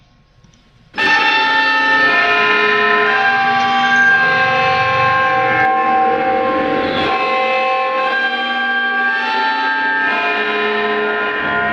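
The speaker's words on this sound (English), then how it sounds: "Here's the Westminster chime." A Westminster chime in a Roblox game starts abruptly and rings out as loud, sustained bell tones with rich layered harmonics, holding steady with no talking.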